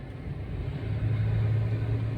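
Car engine holding steady revs during a driving lesson on the Katraj ghat road, a low continuous rumble with a rising hum as the throttle is held, close and alone without talk.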